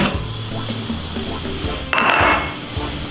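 Shrimp scampi scraped from a pan onto a plate, with utensil clinks and a short, louder scraping burst midway, close by over a low background hum.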